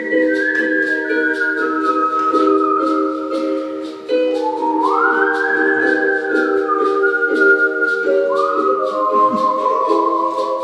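Melodic whistling carries the tune in a piece, with sustained whistled notes and slides over a steady band accompaniment. Pulsing percussion runs throughout.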